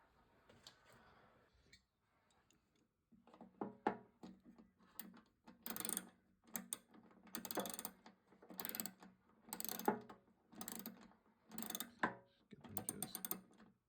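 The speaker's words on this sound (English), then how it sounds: "now we put the screws, the bolts back on, and then tighten them up in a crisscross fashion." Bolts on a BMW R1200C fuel pump tightened in a crisscross pattern with a ratchet, heard close up as a series of quick ratcheting bursts separated by short pauses, with no talking.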